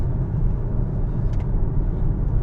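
An Alfa Romeo Tonale Veloce cruises on the M4 motorway at about 60 mph, heard from inside as a steady low road and engine rumble with faint tyre hiss, unbroken and free of speech.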